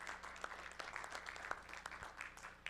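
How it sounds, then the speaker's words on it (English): A round of audience applause for the speakers at the close of a civic luncheon lecture, an even, fairly quiet patter of many hands clapping at a distance with no talk over it. "If we could just have one more round of applause for all of our speakers."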